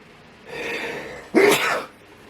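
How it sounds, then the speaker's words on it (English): A drawn-in breath builds up, then one sharp, loud sneeze bursts out close by before it goes quiet. "I'm going to sneeze."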